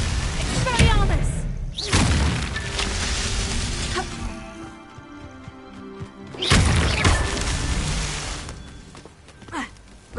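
Expelliarmus spell effect in Hogwarts Legacy, a magical whoosh and impact burst with thuds and crashes, repeated twice in a loud, dense flurry of game sound.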